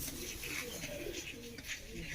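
Domestic pigeons cooing softly and repeatedly in a loft, low throaty coos layered with background bustle and faint chirps, no clear speech.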